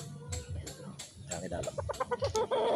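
A Pure Super Sweater gamefowl rooster at a game farm clucks close by in a run of short, throaty calls that grow quicker and busier toward the end.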